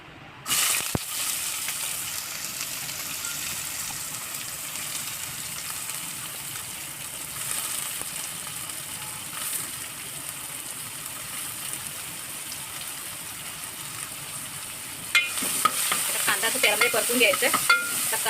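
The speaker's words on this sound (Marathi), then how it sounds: "आता इथे कांदा सुद्धा परतून घेतलेला आहे तेलामध्ये" Chopped onion frying in oil with whole spices, a constant close sizzle with occasional stirring scrapes, growing busier and more crackly near the end.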